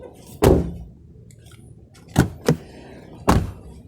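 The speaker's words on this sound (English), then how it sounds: "The sound from the door is completely different, right?" A sound-deadened Subaru Legacy car door shuts with a dull, padded thud, followed by a few softer muted knocks, close by in a quiet space.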